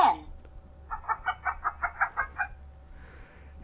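A children's educational sound toy plays a chicken call, a quick series of about ten rhythmic, electronic-sounding clucks in a row, clear and close, with a brief noise at the start and faint hiss after.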